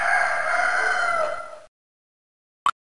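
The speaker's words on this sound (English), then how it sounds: "The morning starts with rooster's call." A rooster crows on a busy farm, one long loud cock-a-doodle-doo that stops abruptly, followed by silence and a short sharp blip.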